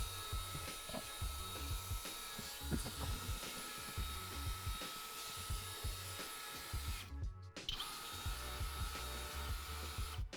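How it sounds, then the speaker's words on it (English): A drill-mounted rotary brush whirs continuously, scrubbing car interior carpet with a rough rhythmic grinding, briefly cutting out near the end before starting up again. "I'm just gonna use my drill brush and work that chemical in"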